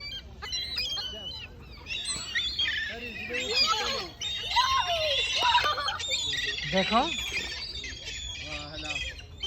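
A flock of ducks squawks and quacks noisily nearby at a pond in Laval, Canada, overlapping calls throughout, with a person speaking briefly underneath.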